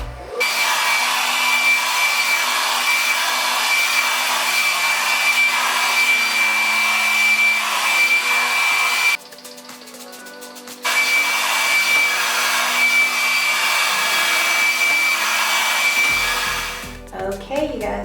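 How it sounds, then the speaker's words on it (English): A Tourmaline Ceramic 1875 Pro hair dryer runs loud and close on its hot, highest setting with a steady whooshing roar. It cuts out briefly near the middle and then starts again. "I'm gonna put it on the hot setting and put it all the way up and blow dry."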